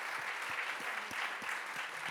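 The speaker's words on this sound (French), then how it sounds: "on va l'applaudir" Audience at a science talk applauds for a research director, a fairly soft, even spread of clapping with a few distinct nearby claps standing out.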